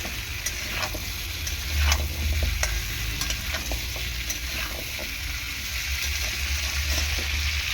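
Potatoes and pumpkin fry with prawns in a pan, a continuous close sizzle with stirring scrapes and soft clatter throughout.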